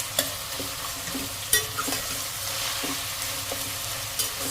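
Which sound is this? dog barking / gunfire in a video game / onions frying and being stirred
onions frying and being stirred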